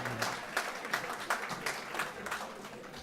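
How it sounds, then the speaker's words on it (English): Audience applause at a teen pregnancy awards ceremony, a soft, steady wash of many hands clapping with slightly uneven peaks, fairly faint and distant. "Thank you for the round of applause."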